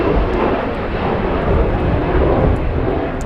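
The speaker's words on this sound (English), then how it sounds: "We have a Delta getting a move on runway 24 left for departure" A Delta airliner departing from runway 24 left at Los Angeles International Airport makes a loud, steady roar of jet engine noise that fills the whole stretch, with no voices.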